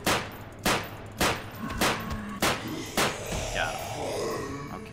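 Gunfire from a weapon shooting at monsters in the game The Forgotten Ones: about six loud, sharp shots fired in a steady rhythm roughly every half second, then a softer rumbling tail, with no talking.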